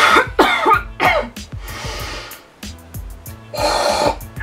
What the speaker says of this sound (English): I'm gonna take a break and cough a little bit, if that's okay.